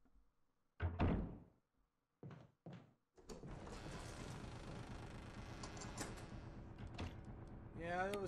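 A door opening in the Resident Evil HD video game, a few separate heavy thunks and knocks followed by a steady mechanical rumble of the door sequence, fairly quiet overall.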